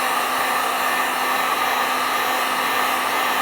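A hot air gun blows steadily on a PVC pipe to soften it, making a loud, unbroken whooshing roar with a constant electric motor whine close by.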